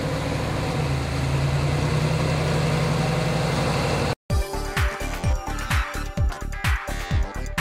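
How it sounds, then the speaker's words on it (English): A GM vehicle's engine runs on a dyno, a loud steady low rumble that cuts out briefly, then returns as a rhythmic series of revving pulses with sharp bursts, no talking. "get our vehicle on the dyno, and we're going to start taking some data and making a little bit of noise"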